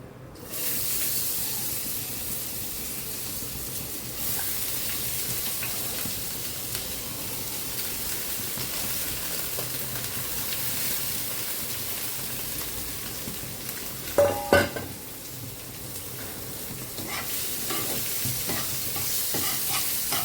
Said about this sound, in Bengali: এখন এই মুগের ডালটা একটু ভেজে নেব। কড়াইতে দিয়ে দিচ্ছি।